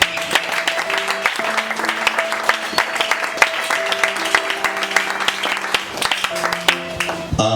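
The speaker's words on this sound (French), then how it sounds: "Tous, nous allons libérer nos mains. Puis nous allons acclamer la parole de Dieu." A church congregation claps steadily through the whole stretch, dense and rhythmic, while a sustained organ or keyboard chord holds underneath.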